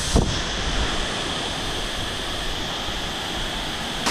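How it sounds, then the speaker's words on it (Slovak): A waterfall near Da Lat, Vietnam, heard as a steady, loud broadband roar of rushing water that stays constant throughout, mixed with wind buffeting the microphone, with no voices. "blížime sa k vodopádu"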